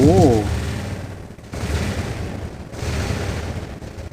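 Robots firing weapons in War Robots, played as a Fafnir battle: dense, continuous bursts of heavy gunfire and impacts that run for several seconds with brief dips, loud and close, with a short tonal game sound at the start.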